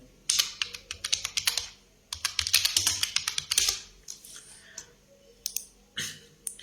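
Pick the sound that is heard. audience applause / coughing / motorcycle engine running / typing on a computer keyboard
typing on a computer keyboard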